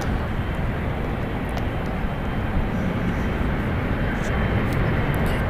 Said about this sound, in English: Delta Airlines Flight 810 departing there to ATL. It's at Boeing 757-300, 20 years old.